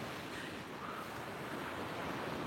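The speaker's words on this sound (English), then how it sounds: "You can hear the waves." Ocean waves washing onto the shore in a continuous soft rushing surf, steady and moderately distant with no voices over it.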